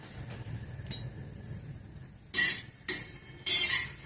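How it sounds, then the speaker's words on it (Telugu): Bitter gourd frying with onions in a pan, a soft low sizzle under quiet background hiss, broken near the end by three bright scraping stirs of a metal spoon against the pan. "కాకరకాయలు వేగిపోయినాయి"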